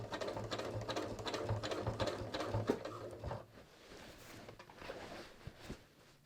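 A domestic sewing machine stitches a jeans waistband back in place, a fast steady mechanical chatter for about three seconds, then stopping to leave quieter handling noises and faint clicks.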